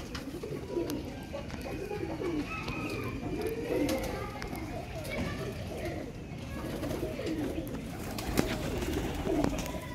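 Teddy breeder pigeons at a Sialkot loft coo steadily in soft, overlapping rolling calls, close and continuous over a faint background hum.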